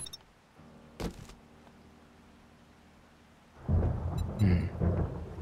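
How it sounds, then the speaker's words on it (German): A low rumble of thunder builds into a loud, broad roar of rain and thunder in 7 Days to Die VR, with a brief sharp crack near the start. "Regnet doch schon wieder hier."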